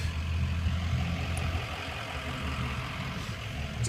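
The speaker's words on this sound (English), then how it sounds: "Very quiet engine." Low, steady engine drone inside a moving Acura TL sedan, a quiet, even rumble with road noise and no talk.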